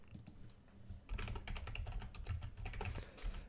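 Fast typing on a computer keyboard: dense, irregular key clicks, sparse at first and then a busy continuous run of close, crisp taps with no voice.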